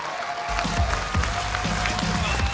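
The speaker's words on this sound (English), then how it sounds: "Big round of applause for all 4 players." A crowd at a StarCraft Heart of the Swarm grand final claps and cheers for players on stage, steady applause with scattered whoops and talk over it.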